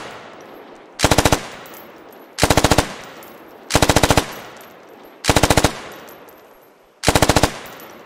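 A SAW light machine gun fires from a bipod in the military shooter game Squad, in five loud, evenly spaced bursts of rapid shots with quiet gaps between them.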